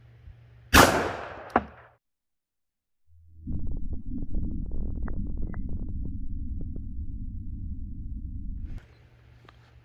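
A full metal jacket round fired from 10 feet into a ballistic gel block outdoors: one loud, sharp crack with a quick second impact snap, then silence and a long, steady low rumble.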